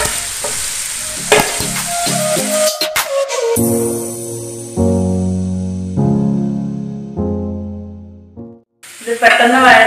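Onions and garlic fry in a pan for a tomato chicken fry, a loud, close sizzle with stirring scrapes, partly overlaid by steady tonal music, briefly dropping out before the frying resumes.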